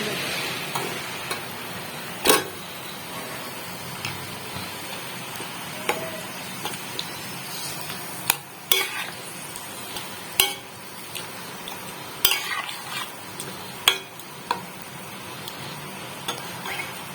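Paneer cubes dropped into a pan of dhaba-style masala and stirred, with a soft frying hiss beneath repeated sharp clicks and taps of a spatula on the pan, close and intermittent.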